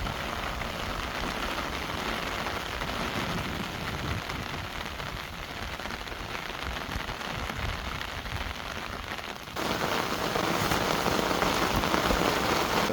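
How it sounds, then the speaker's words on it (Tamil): Heavy rain with wind on a hillside pours as a dense, constant hiss, loud and unbroken, with a brief dip before it grows slightly stronger. "காற்றோட மழையும் பெய்யுது."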